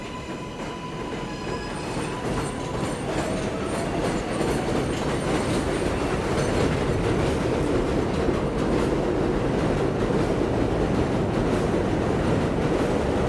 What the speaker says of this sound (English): Let's check out this subway entrance.